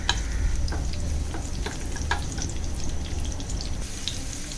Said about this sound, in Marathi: ऑइल छान तापलं की बारीक उभा चिरलेला लसूण, अजून एक कांदा